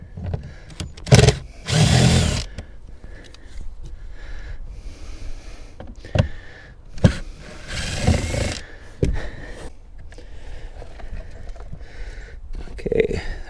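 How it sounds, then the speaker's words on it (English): A power drill whirs in short bursts while removing old battery trays ahead of a lithium battery install, with pauses, clunks and a person talking between the runs. "Hopefully my drill reaches in here."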